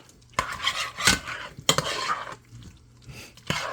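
Potatoes with their skins on being stirred in a pot, a spoon scraping and clanking against the metal in a few separate bursts with quiet pauses between.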